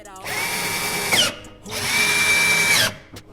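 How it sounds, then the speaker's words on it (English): Power driver running T25 screws into car trim on a Mini F56: two sustained whirring bursts, each about a second long, close and fairly loud with a brief pause between. "The T25 screws are going back in."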